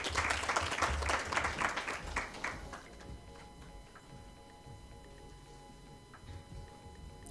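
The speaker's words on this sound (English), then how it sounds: "Let's welcome him with a round of applause." An audience at a data governance forum in Nairobi claps for a speaker coming to the stage, a burst of applause lasting under three seconds, then a quiet room with faint stray sounds.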